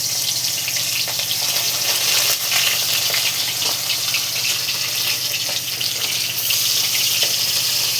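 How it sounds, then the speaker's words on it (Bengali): Pieces of tilapia fry in hot oil, a loud steady sizzle and crackle that holds throughout, close up and without talk. "একে একে মাছগুলোকে দিয়ে দেবো তেলের মধ্যে।"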